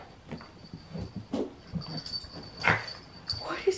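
Excited dogs whimper and yip in the morning in a home, giving a run of short high cries and whines close by, with a few scuffles and a human voice briefly in the background.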